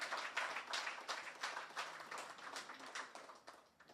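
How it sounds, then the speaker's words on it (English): Applause ripples through a crowd at a political cottage meeting, a steady patter of many hands clapping close by with no speech over it, thinning slightly toward the end. "So give yourself a round of applause again for that."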